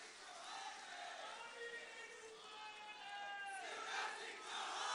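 At a public gathering in Chhindwara, a large crowd chants slogans together in a dense, continuous wash of raised voices, distant and fairly faint, building slightly toward the end.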